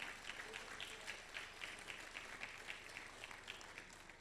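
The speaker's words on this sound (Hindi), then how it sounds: "एक बार तालियां उठे नीतू के लिए।" An audience at the Bhiwani Gaurav Samman 2024 ceremony claps for Neetu, a steady moderately loud wash of applause with small pulses that runs the whole time, no talking on top.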